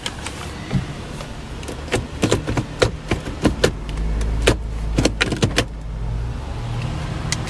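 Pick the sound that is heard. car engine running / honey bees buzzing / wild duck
car engine running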